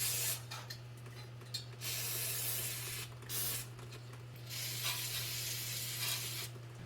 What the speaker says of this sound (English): spray these old bolts with some WD to get them loosened up